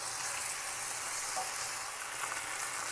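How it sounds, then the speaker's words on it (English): Potatoes fry in beef pan drippings in a seasoned cast iron pan, giving off a steady, even sizzle that stays close and constant with no talking. "We're going to go ahead and get these potatoes a nice fry up in all the pan drippings"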